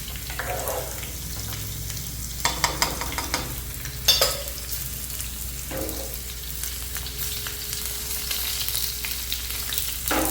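Pineapple pachadi curry fries in a pan with a steady close hiss. A few scattered clinks and scrapes of stirring break through now and then.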